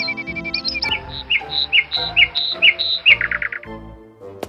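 A bird squawks loudly and repeatedly in harsh, shrill bursts, close by, with chirpy calls mixed in and no voices.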